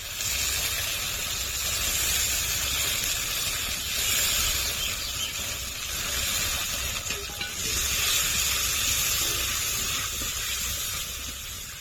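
Water poured into a pan of frying ginger, cumin and dried red chili paste for a fish curry, giving a steady loud hiss and sizzle of steam that carries on without a break.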